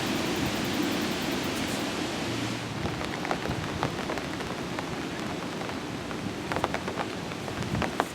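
Steady rain falls across an outdoor disc golf course during an amateur championship round, a dense, even wash of patter with scattered louder drops throughout and no voices.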